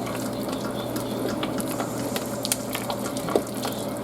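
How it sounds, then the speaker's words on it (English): Lemon meringue pie filling being whisked in a bowl, a steady busy scraping and clicking with scattered sharper ticks, fairly close and continuous with no talk. "Just whisk all this together until it's combined."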